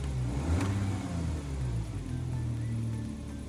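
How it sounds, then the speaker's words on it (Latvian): A Volkswagen Touareg engine runs with a steady low rumble and mild rises in revs, close and loud, with no talk over it. "Vienkārši motoru viendarbība, perfekti viss."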